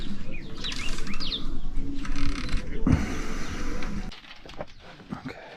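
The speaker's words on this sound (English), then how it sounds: "not even one bird, but now we can hear them" Wild birds call and chirp around a mountain campsite near Nong Khiaw, Laos, with quick bright notes over steady outdoor background noise that drops quieter near the end.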